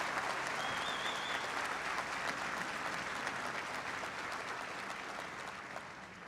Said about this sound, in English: Please give your outstanding team a big round of applause.